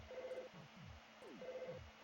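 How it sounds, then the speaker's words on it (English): A telephone rings in the video game Earthbound (Mother 2): two short electronic ring bursts, each a sustained tone with descending blips beneath, quiet and alone. "And there's a ring ringing."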